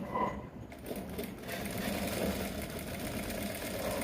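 A sewing machine runs steadily, stitching down black top thread over white bobbin thread on a male Senator top, a continuous close mechanical whir with a brief pause near the start.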